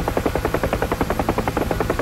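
A helicopter in flight makes a loud, close, steady rotor chop, with a fast even whump-whump pulse running continuously over a low engine drone.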